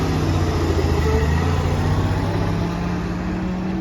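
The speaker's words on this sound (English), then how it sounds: "There he goes. Great little truck." A 1938 Dodge truck drives away with a steady, droning engine hum and low rumble that holds loud and close throughout, fading only slightly toward the end, with no voices.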